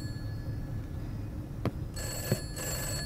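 An old telephone bell rings in the horror game Summer of '58, a bright metallic trill that starts partway through in two rapid bursts over a low ambient hum, with a couple of faint knocks before it.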